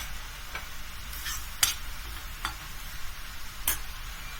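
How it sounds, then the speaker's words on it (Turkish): Chopped onions sizzle softly in a pan with a steady frying hiss, broken by a few scraping clicks of stirring. "üç tane küçük küçük doğradığım soğanları ekliyorum"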